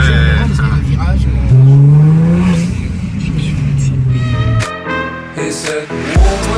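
A Nissan GT-R fitted with HKS parts drives hard and brakes for a bend, its engine loud and close with rising and falling revs and a brief tyre squeal, set against background music.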